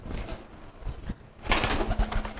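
A racing pigeon coos while being picked up and handled, soft throaty coos with scuffling and rustling that grow louder midway, close by.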